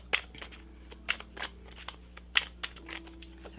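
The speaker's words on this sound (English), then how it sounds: "And if you don't like the shuffling, guys, just fast forward." Tarot cards are shuffled up close in quick riffling bursts with crisp flicks and snaps, and a faint steady hum sits underneath.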